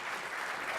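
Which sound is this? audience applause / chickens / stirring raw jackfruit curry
audience applause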